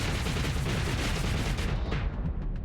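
Rapid spaceship weapon fire in the space combat game Starsector, a dense continuous barrage of booming shots that stays loud throughout and thins slightly in the upper range near the end.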